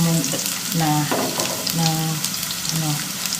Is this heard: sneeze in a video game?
no